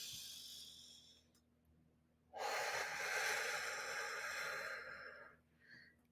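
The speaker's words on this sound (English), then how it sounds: "Let's start with taking a deep breath." One slow, deep breath, a soft gentle intake followed by a long airy exhale, close and quiet in a calm setting, with a faint breathy trace at the end.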